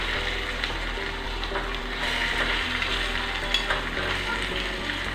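A spoon stirs an asafoetida tempering in a hot pan for rava idli, with a steady soft sizzle and gentle scraping continuing throughout, close and moderately quiet.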